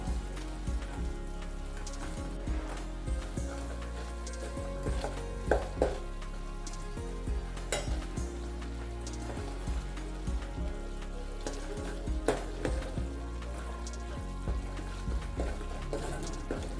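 A spiced mixture with a spoonful of homemade black masala is stirred in a hot pan, giving a continuous close sizzle with soft stirring scrapes throughout and no voices.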